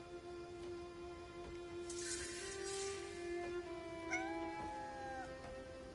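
A cat meows in the video game Crimson Desert, a faint call or two over a quiet, steady in-game ambient tone, with no talking.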